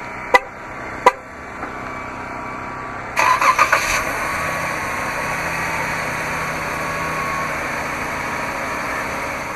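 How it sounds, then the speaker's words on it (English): Remote start of a 2012 Jeep Grand Cherokee Laredo: two sharp horn-like chirps, then the engine cranks with a brief stuttering burst and settles into a steady idle hum that continues to the end. "to activate the remote start on the key fob"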